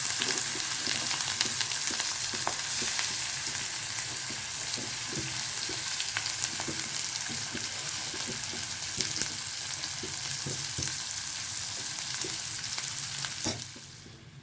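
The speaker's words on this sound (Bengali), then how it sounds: "মাছগুলো এখন তেলের মধ্যে দিয়ে দিচ্ছি" Boal fish pieces frying in hot oil in a wok (kadai), giving a loud, steady, crackling sizzle that holds throughout, with small pops, then dropping off slightly at the very end.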